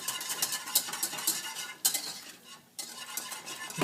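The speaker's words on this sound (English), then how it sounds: "Just whisking away." A whisk clatters rapidly and steadily through Gujarati kadhi in a metal pot, close and busy with scraping and faint sizzle, pausing briefly before resuming, with no speech.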